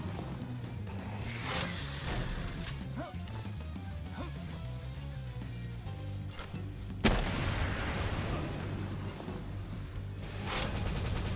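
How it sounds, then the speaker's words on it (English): A rocket launcher fires at a boss in the video game Palworld, with booming blasts and impacts over a busy game soundtrack, one sharp loud blast standing out midway and another near the end. "Sadly, the rocket doesn't stagger this boss like it does all other bosses."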